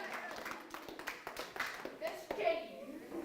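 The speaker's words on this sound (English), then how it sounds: "We clap for everyone." A school class in a senior creative arts lesson claps for classmates' plays, scattered hand claps mixed with children's voices chattering close by.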